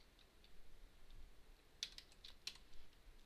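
Faint, quiet typing on a computer keyboard while editing in vim, a few soft scattered keystrokes with two sharper clicks, heard alone.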